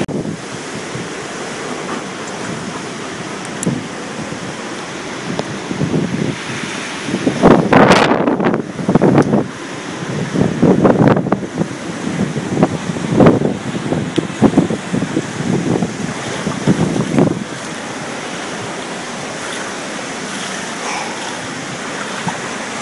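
Hurricane Sandy storm on Long Island, with floodwater rushing and sloshing and wind buffeting the microphone, surging loud in bursts through the middle before easing to a steady roar.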